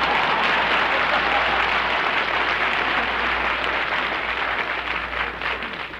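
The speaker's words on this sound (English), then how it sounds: "Applause." A studio audience at a Jack Benny radio comedy broadcast gives steady, full applause that holds at an even level for several seconds. The clapping tapers slightly near the end, with no talking over it.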